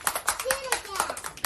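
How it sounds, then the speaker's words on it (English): Group hand clapping in a steady rhythm during a sing-along, mixed with voices singing and talking, fairly close and moderately loud. "Let's clap our hands."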